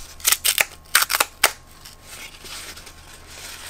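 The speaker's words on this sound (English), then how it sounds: "listen to the beautiful sounds of pulling the paper off of the corrugation here" Paper strips are torn from corrugated cardboard in a quick series of sharp, crackling rips, about seven close bursts in the first second and a half, followed by quieter rustling.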